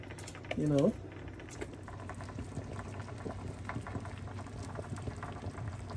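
Jamaican one-pot soup with corn simmering in a pot, a low steady bubbling that runs throughout, with a brief burst of voice near the start.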